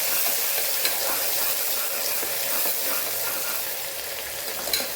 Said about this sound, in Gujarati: ડુંગળી થોડી સતળાઈ જાય એટલે આપણે લીલું લસણ ઉમેરી દેવું, એને પણ સાતળી લેવાની છે